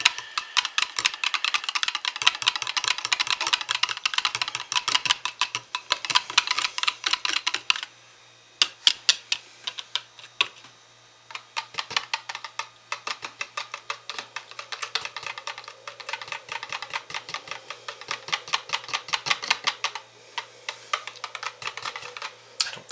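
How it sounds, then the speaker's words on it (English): Ultramarine blue colorant is whisked into soap batter for a spin swirl soap, giving rapid, close clicking taps in long rhythmic bursts with short pauses between, and no talking. "Let's whisk these in and see how we're doing consistency wise"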